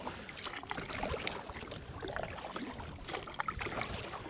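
An NRS Kuda 106 inflatable fishing kayak is paddled on water, with soft, irregular splashes and drips from the blades close by, quiet and unaccompanied by voices.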